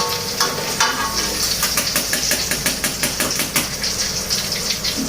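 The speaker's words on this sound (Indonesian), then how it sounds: "Kayaknya aku goreng ikannya kayak gini aja, nggak terlalu garing." Fish fries in a pan of hot oil, a steady loud sizzle with rapid crackling pops spread evenly throughout, close and continuous with no voices.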